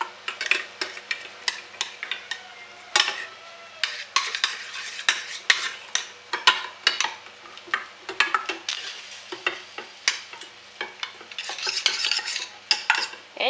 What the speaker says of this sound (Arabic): نقوم بإذابة الصابون، نحرك جيدا